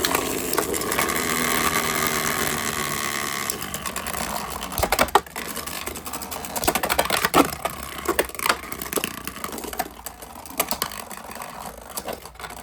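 Beyblade X metal tops, including Metal Needle and Drigger S, clatter and grind against each other in an ice arctic stadium, with dense rattling, scraping collisions and sharp clacks over about twelve seconds, loud and close.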